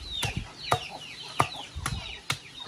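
Hens and a rooster cluck in the yard of a rural smallholding, close by, with about five sharp clucks spaced roughly half a second apart over a quiet background and no talking.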